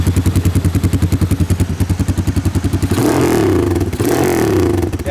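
A motorcycle fitted with a new Orion exhaust silencer thumps at a lumpy, pulsing idle, then revs up sharply into a loud, sustained roar before easing back, close and alone.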